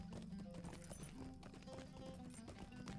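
Horse hooves clip-clop steadily in the video game LOTRO, a mounted Hobbit Hunter riding through Bree-land, the rhythmic footfalls sitting under dense game music and ambience.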